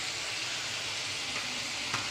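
Bottle gourd kootu with chilli powder and turmeric sautés in a pan, giving a steady, moderate sizzle and crackle with a faint stir or clink near the end.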